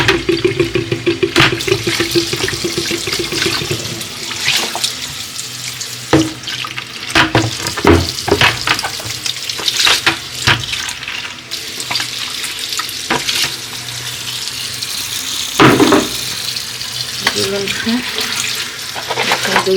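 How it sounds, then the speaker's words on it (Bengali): New potatoes sliced for papor chips being rinsed under a running kitchen tap, steady loud water splashing with clattering and sloshing as the pieces are stirred by hand, continuous and close. "নেওয়ার পর এগুলো আরও একটু ধুয়ে নিই। আরও হবে এভাবে ধুয়ে নিতে হবে।"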